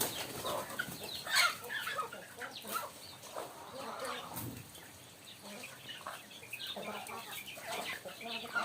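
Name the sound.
chickens eating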